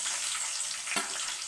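Medium-sized onion fries in a pan for MTR puliogare, a soft, continuous hiss with one brief louder crackle, heard alone.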